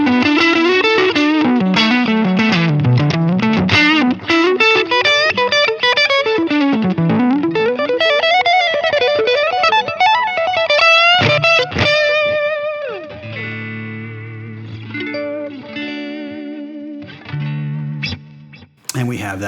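Electric guitar played through Line 6 Helix Tweed Blues and US Deluxe amp models with a clean-to-breakup tone, loud and alone: a run of picked notes and chords, then sustained ringing chords that fade out at the end.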